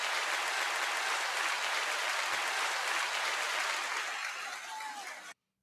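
Sustained, dense clapping from an audience greeting a comedian, rapper and actress at a live hosted show; the applause rolls steadily for several seconds, tapers slightly, then stops abruptly.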